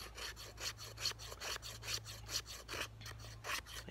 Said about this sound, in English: you can use that to create fine fat wood shavings here